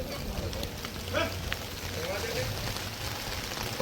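Heavy rain pours down during flooding in a residential society, a dense, steady hiss of water that runs unbroken through the whole stretch, with faint voices in the background.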